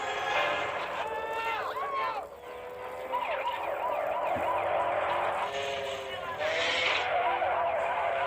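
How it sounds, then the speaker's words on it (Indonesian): A motorcycle chase scene from the Rambo film, with engines whining, tires skidding and sirens wailing in overlapping, loud passes, while a voice talks over the action. "merebut salah satu motor warga hingga terjadilah kejar-kejaran"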